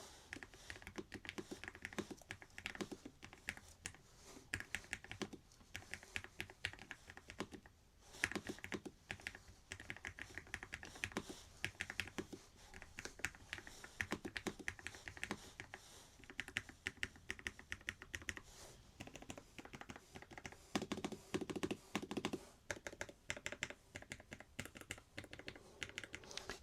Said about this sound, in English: give you a typing test on this as well, so you can see just how cool this is to type on and how quiet it is